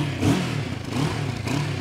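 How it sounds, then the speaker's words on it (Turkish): Exhaust of a Moto Morini Seiemmezzo motorcycle revving, with three short throttle blips rising and falling over a lumpy idle, close by and loud. "Gel bir de egzoz sesini duy."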